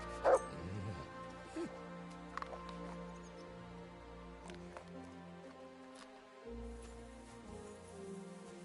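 Dog in the medieval video game Kingdom Come Deliverance 2 gives a short bark near the start, then soft intermittent whimpers and yips over faint game ambience and a low background drone.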